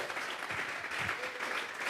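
Church congregation clapping as an offering of praise during a sermon, a soft, continuous patter of many hands heard faintly at moderate distance for just under two seconds, with no speech over it.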